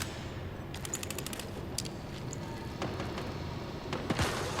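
Guns and automated turrets firing in the survival shooter Once Human, with bursts of rapid shots and sharp cracks over a steady, noisy combat background at moderate volume.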